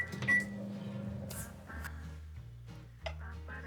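Butter melting in a microwave oven, a steady low hum with a few clicks and a short beep, fairly quiet, with a brief voice nearby.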